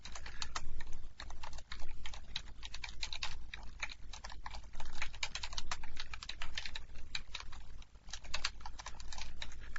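Steady typing on a computer keyboard while entering a command at the command line, a close, continuous patter of quick key clicks with brief pauses and no talking.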